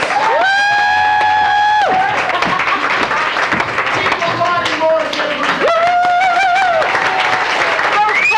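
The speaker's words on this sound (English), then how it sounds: "applause." Audience at a 2005 rap battle applauding and cheering, a dense wash of clapping and crowd noise, with loud whooping voices and sustained shouts over it.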